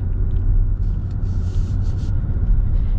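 A Ram truck's diesel engine, held under 2,000 RPM, rumbles steadily and loudly while driving, a constant low drone with no break.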